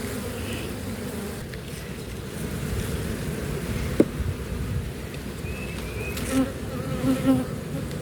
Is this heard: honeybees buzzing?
yes